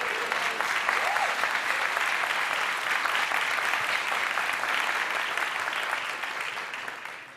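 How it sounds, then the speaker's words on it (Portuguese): Church congregation applauding at a celebration service, a dense, steady wash of many hands clapping that fills the room for about seven seconds, fairly close and loud, then starts to fade at the very end. "Você pode aplaudir ao Senhor pela palavra?"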